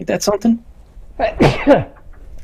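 A single short sneeze bursts out close to the mic between stretches of someone talking.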